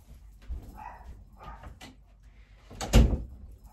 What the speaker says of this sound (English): I can hear my dog.